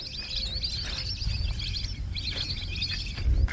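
A flock of migratory birds chirp and twitter together in quick overlapping calls in the Birbhum forest, moderately near, over a low outdoor rumble.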